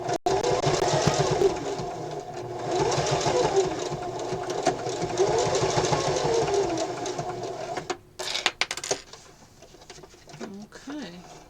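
Sewing machine back stitching a wrist pincushion, a fast steady mechanical whirr that runs for about eight seconds with slight pauses, then stops and gives way to a few light clicks and handling sounds.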